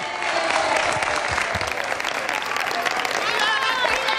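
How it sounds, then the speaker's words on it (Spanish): Crowd applause at the Málaga Festival, loud and dense, continuous clapping with cheering voices mixed in for the full four seconds. "Pues un aplauso por los Terneros."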